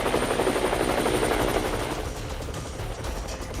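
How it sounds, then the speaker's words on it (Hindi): A firefighting helicopter deployed against forest fires in the Uttarakhand hills thuds overhead with rapid, loud rotor chopping that fades slightly over a few seconds, with no voices. "उत्तराखंड में आग बुझाने के लिए हेलीकॉप्टरों से मदद ली जा रही है।"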